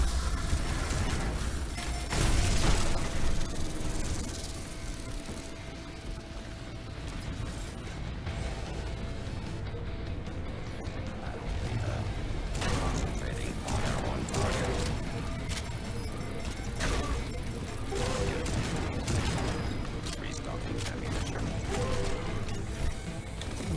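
Lycus in the sci-fi shooter Spacelords fires heavy shots and reloads amid dense in-game combat: booming impacts and mechanical clacks recur over a constant layer of game noise, with a voice talking across most of it.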